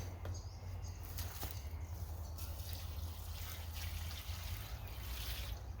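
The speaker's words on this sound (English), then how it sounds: "I brought the watering can down so I can water the plants" Water pours from a watering can onto plants outdoors in the bush, a soft, steady splashing trickle with a low background hum, fairly quiet and continuous.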